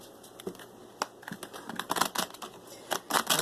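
A deck of archangel oracle cards being shuffled by hand, a quick run of light papery flicks and riffles that grow busier and denser toward the end, close and fairly quiet.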